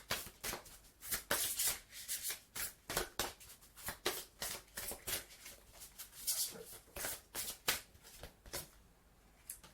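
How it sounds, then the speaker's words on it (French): Oracle cards are shuffled and drawn, giving a rapid series of soft, crisp card riffles and slaps that repeat in quick irregular bursts across the stretch, close and fairly quiet. "je vais tirer une petite carte de l'oracle de Gaïa"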